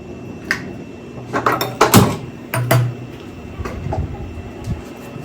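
Dry fruits for vermicelli payasa are roasted in a pan, heard as rattling clinks and scrapes of a utensil against metal in short, uneven clusters, fairly close, with a soft background hiss.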